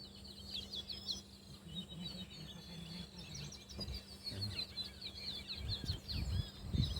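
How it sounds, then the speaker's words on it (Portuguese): Small birds sing in green coastal countryside in the far south of Porto Alegre, with quick high chirps and trills repeating over a low steady background hum, fairly faint and with no one speaking. "Cantoria dos passarinhos."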